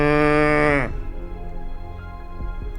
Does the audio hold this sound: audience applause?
no